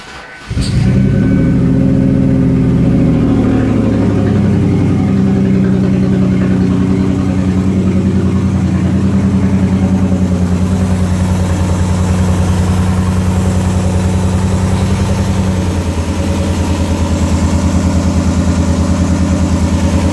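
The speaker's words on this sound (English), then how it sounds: "So let's start it up. And this is gonna be loud because there's no muffler." A Mazda Tribute engine cranks and starts with the muffler and mid pipe removed, then settles into a loud, harsh, steady idle that throbs close up for the whole stretch, with no talking.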